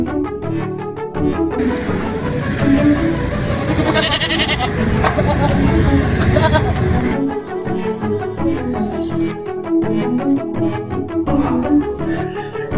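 Goats bleat repeatedly at a busy livestock market where animals are bought for Eid, loud and close, with overlapping calls, crowd noise and people talking throughout.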